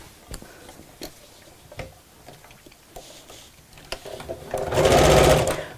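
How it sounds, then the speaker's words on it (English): A sewing machine stitches a craft bag with pockets, starting with scattered ticks and clicks before the motor whirs up into a loud, steady run of stitching at close range. "I'm just going to sew those in place"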